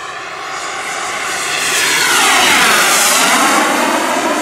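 An RC T-45 Goshawk jet powered by a Swiwin 80 turbine flies overhead at full throttle, its loud high-pitched turbine whine and rushing roar building and sweeping past in a doppler shift, with no voices.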